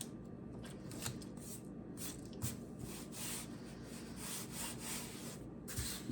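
Watercolor paper is taped down onto a hardboard art panel, with soft, close rubbing and pressing strokes and a few light taps against a steady faint hiss.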